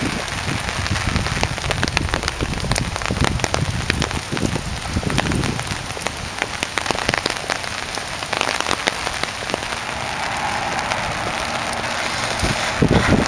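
Steady rain falls around Fosdic Lake in Fort Worth, pattering on surfaces and likely an umbrella, with a continuous broadband hiss, close irregular drips and occasional louder taps over 13 seconds, and no voices.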